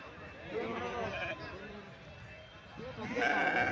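Sheep bleat amid the crowd at the weekly sheep market in Ranebennur, with several wavering bleats rising over steady background chatter while people talk nearby.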